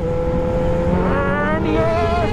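A Suzuki Hayabusa motorcycle on the Delhi to Agra road drops a gear, its engine note steady and loud, then climbing sharply twice as revs jump, with constant rushing wind noise.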